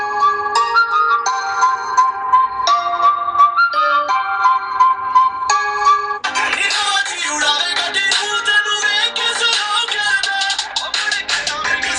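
An OPPO F1s smartphone plays a bright melodic tune through its external loudspeaker. The tune is steady and fairly loud, gets fuller and denser partway through, and has no talking over it.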